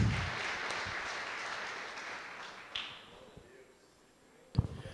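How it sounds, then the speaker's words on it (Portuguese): Brief applause from a church conference crowd, a burst of clapping that fades out over a few seconds, followed by a couple of taps. "Vamos fazer uma salva de palmas para esse pessoal aqui à frente?"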